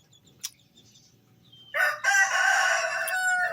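A rooster crows loudly nearby in a long, strained call, preceded by a brief sharp click and soft background noise.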